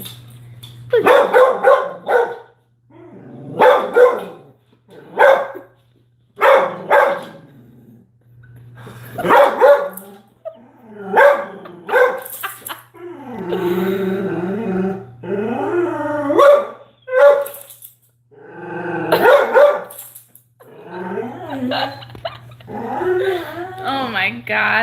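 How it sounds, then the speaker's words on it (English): A puppy barks and yips in short, repeated bursts across the whole stretch, fairly close, overlapping a woman's cooing, chatty voice. "Sal, who's that puppy?"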